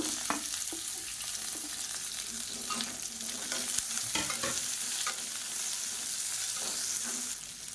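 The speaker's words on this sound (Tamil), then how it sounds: "எண்ணெய் ரொம்ப சூடாகிடுச்சு, அதனால் நான் உடனே வெங்காயத்தை சேர்த்துக்கிறேன்." Two medium onions dropped into very hot oil over a medium flame, frying with a steady loud sizzle and crackle, broken by occasional stirring scrapes and clinks of a spoon against the pan.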